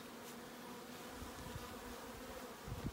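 Honey bees buzz at a packed, crowded hive, a faint, continuous drone heard close by with no talking.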